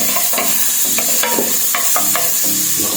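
Garlic sautéed in margarine in a pan, sizzling loudly and steadily with quick scraping stirs of a spatula throughout, close up.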